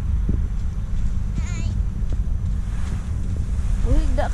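Boat ride out on the sea near Innoshima Island, Japan, with a steady low rumble of engine, wind and water churning throughout, wind buffeting the microphone and brief voices and whistles over the top.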